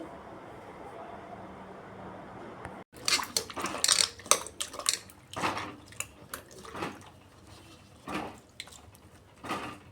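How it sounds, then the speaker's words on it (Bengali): Potatoes, onions and tomatoes washed by hand in a kitchen: quiet running water at first, then irregular clinks and clatters of vegetables against a pot or bowl amid splashing, close and uneven. "এইভাবে আলু পেঁয়াজ টমেটো ভালো করে ধুয়ে নিচ্ছি"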